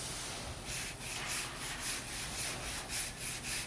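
Glazing putty over a car body dent is block sanded, with a steady rhythm of close, even back-and-forth rasping strokes, about two per second, and no talk.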